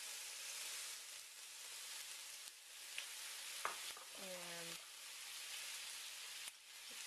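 Beef browning in a hot pan for Korean jap chae noodles, giving a steady, close hiss of sizzling that runs throughout, with a short squeaky tonal note partway through and no talking.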